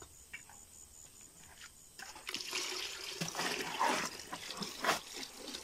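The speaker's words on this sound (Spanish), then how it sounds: "Echale agua ahí." Water is poured into mortar mix during bricklaying: a faint trickle, then a fuller, splashing rush that runs steadily for several seconds, with no talking.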